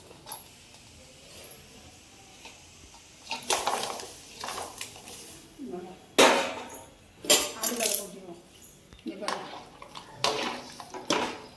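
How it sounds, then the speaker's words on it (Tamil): Goat trotters are tipped into a pot of hot, not-quite-boiling water, giving several splashy clattering drops and knocks against the pot in uneven bursts, close and moderately loud. "தண்ணி ரொம்பவும் கொதிக்காமல் நார்மல் சூடில் நம்ம வந்து ஆட்டுக்காலை கொட்டிடுவோம்."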